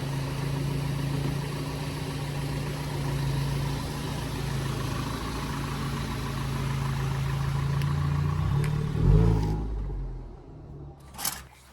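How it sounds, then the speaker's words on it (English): A car engine idles and rumbles steadily inside a new 40x30 ft shop barn as it is pulled out, a low continuous hum that swells near the end with a brief clunk and a short sharp noise. "Let's pull the car out and pretty much just end off this video properly,"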